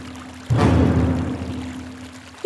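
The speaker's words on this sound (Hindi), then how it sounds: "लगता है इसने फिर से नल खुला छोड़ दिया।" Water gushes from a tap left open, starting abruptly and then running in a steady, loud stream close by.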